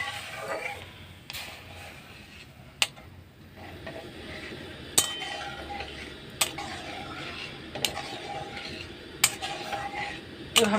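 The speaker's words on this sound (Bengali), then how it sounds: "দুধটা দিয়ে আমি ভালো করে মিশিয়ে নিচ্ছি সুজিটা" A spoon works semolina (suji) and milk around a pan, giving a steady soft scraping churn broken by sharp clinks against the pan at irregular intervals, close and moderately loud.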